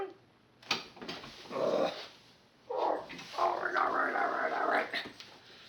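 A small dog close by whimpers and lets out drawn-out growling, grumbling vocalizations in a couple of bursts.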